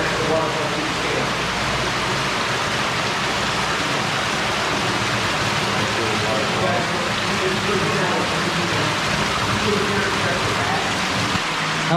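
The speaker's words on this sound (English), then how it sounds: "And I can hear a waterfall." A waterfall near a cave on the Current River makes a continuous, even rushing hiss, with faint voices now and then beneath it.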